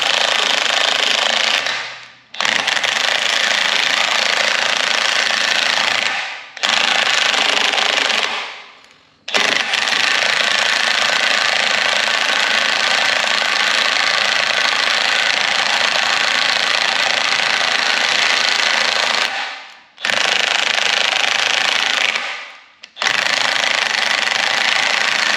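A Bolt Buster tool runs in loud, dense buzzing bursts, several long stretches cut by short abrupt stops and restarts, close up with no talking.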